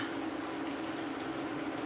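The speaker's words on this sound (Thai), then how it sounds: "แต่ช่วงนี้ฝนตกนะ" Rain falls steadily around a nest of young spotted doves, a faint, even patter with a soft hiss throughout and no voices.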